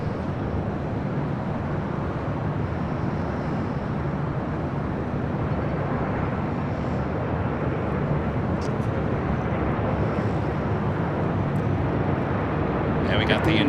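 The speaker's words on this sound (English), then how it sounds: "This is Air Tahiti Nui Flight 8 taking off to Paris on a 787-9 Dreamliner." An Air Tahiti Nui Boeing 787-9 Dreamliner takes off, a steady broadband jet roar that stays loud and unbroken throughout, with a few faint higher hisses late on.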